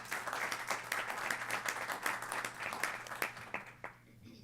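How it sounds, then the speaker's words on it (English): Attendees at an aeronautics commission meeting clap for the director and staff, a modest group applause with distinct individual claps, fairly quiet, fading out with a low hum behind it. "I think this calls for a round of applause for you and your staff"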